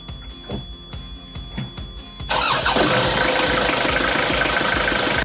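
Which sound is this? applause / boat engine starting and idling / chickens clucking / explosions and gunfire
boat engine starting and idling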